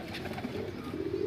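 Pigeons cooing, among them black pigeons kept in a loft, heard close as a steady low murmur with no talk.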